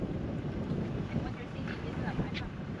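Steady wind buffets the microphone in a low continuous rumble, loud and close throughout, at a lookout in Kalbarri National Park, Australia.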